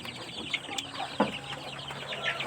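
Three-month-old Mardi chickens cluck and chatter nearby in short, uneven bursts, with a few sharper calls standing out against a soft background hiss.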